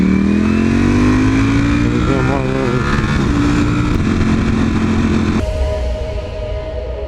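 A BMW S1000 motorcycle engine revs loud and close, its pitch climbing and wavering through the throttle before dropping sharply as it passes, with crowd noise in the background.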